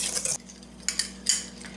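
Dry ingredients (flour, granulated sugar, baking powder and salt) being mixed in a bowl for apple cobbler, with a few short metallic scrapes and clinks of a utensil against the bowl in separate bursts.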